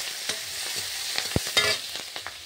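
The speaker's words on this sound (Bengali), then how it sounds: "এবার এখানে একটু টমেটো কুচি আর লঙ্কা দিয়ে দিলাম, দিয়ে একটু নাড়াচাড়া করে নেব" Chopped tomato and chili are stir-fried in a pan of oil tempered with a bay leaf, a soft sizzle under repeated scraping and clinking spatula strokes at an irregular rhythm.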